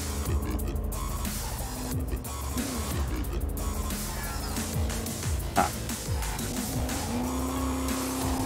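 Car tires squeal and skid through a long screeching slide in Cyberpunk 2077, with engine drone, wailing pitch sweeps and a constant busy game mix underneath.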